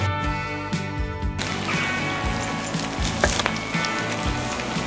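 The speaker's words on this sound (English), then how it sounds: "So you can see the bacon is cooking really nice, the mushroom and the blood pudding, that's getting a nice little crust on that" Bacon, mushroom and blood pudding sizzle on a flat griddle as part of a smash burger cook, a steady close crackling fry that carries on without a break and has no talk over it.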